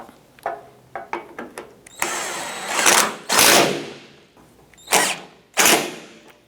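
A power drill drives screws while a tailgate is installed on a 1994–2004 Chevrolet S10, giving a few short whirring pulses followed by longer loud rising whines, close and harsh, with no speech.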